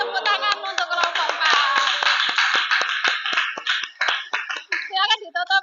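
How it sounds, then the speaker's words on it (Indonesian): Classroom students clap together for a group, a quick run of claps close by that mixes with children's voices and chatter throughout, stopping briefly near the end before more voices follow. "Kita beri tepuk tangan untuk kelompok"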